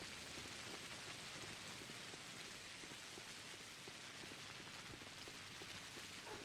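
Steady, dense rain pattering evenly throughout in the game Pathologic, soft and continuous with no other sounds on top.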